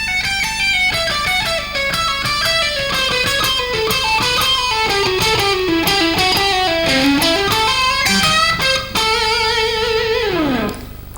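A guitarist runs fast through a self-invented scale on electric guitar, a long rapid stream of notes climbing and falling, finishing on a held note that slides down, loud and unaccompanied by voices.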